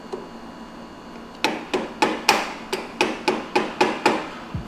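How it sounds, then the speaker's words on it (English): A metal sledgehammer drives a short shifter into place on a Miata with about ten sharp, evenly spaced blows after a brief quiet start, each ringing and decaying quickly. "With a few hits from a metal sledgehammer, the shifter fits perfectly, somehow."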